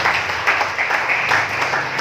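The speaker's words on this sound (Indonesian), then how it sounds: "Tepuk tangan kepada Tuhan." A church congregation claps hands in worship, a dense, loud wash of applause filling the whole moment.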